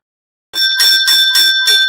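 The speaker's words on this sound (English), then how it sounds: "I'm ringing the bell. I'm going to keep ringing it." Hand bell rung in rapid repeated strokes after a moment of silence, bright metallic clangs about five times, loud and close, with no talk over it.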